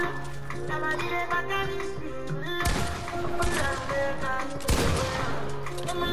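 Pump shotgun fire spammed in Fortnite: loud, sharp blasts burst out over the game's steady music, with one heavy shot near the middle and another a couple of seconds later, plus smaller impacts around them.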